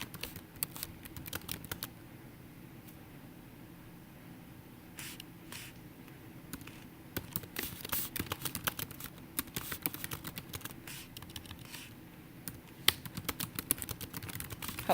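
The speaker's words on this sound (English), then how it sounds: "You'll want to type a little something." Quiet typing on a computer keyboard, irregular runs of soft key clicks with brief pauses, close and alone without talk.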